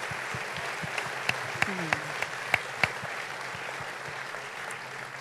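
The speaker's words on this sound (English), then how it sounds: "Let's give him a big round of applause" Moderate applause rises at a chamber of commerce annual dinner for the outgoing chairman, a soft clapping wash with a few sharp, closer individual claps standing out and faint murmuring underneath.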